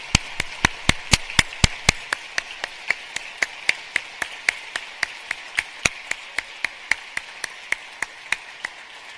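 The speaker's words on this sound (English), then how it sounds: "Please join me in applauding our Building Bridges Award winners." Applause for award winners at Indiana University's 2019 MLK Leadership Breakfast, heard as sharp, distinct, close claps, quick at first and then settling into a slower, steady beat.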